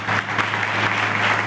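Applause from an audience at an Odia church youth gathering, a brief steady wash of clapping from many hands, moderately loud and continuous.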